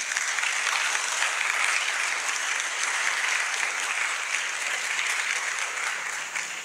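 Sustained audience applause at a public talk on God in cinema and television, steady dense clapping from many hands throughout, loud and continuous with no voices over it.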